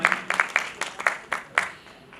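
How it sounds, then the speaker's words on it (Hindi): At a university kavi sammelan poetry gathering, the audience claps for two guests in a short, thin round of applause, with a few distinct claps fading after about two seconds. "एक बार जोरदार तालियां इन दोनों लोगों के लिए बजा दें"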